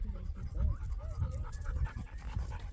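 A dog pants steadily in quick, breathy rhythm close by on a hiking trail, a soft whine-like tone drifting through, with no speech.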